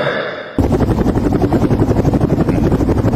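Helicopter rotor sound effect bursts in after a brief quiet lead-in, a loud, steady rhythmic whop-whop chopping that continues without pause to the end, with no talking.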